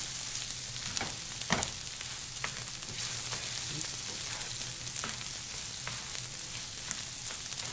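Rice sizzles and crackles in hot oil and bacon fat in a pan for risotto with pancetta, a steady close frying hiss with occasional sharper pops and stirring scrapes.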